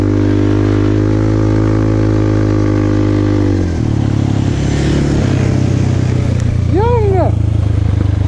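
A Kymco Maxxer 300 quad on street tires roars loudly nearby, its engine holding a steady drone, then dropping in pitch as the rear wheels spin. A man exclaims over the engine noise, which continues to the end.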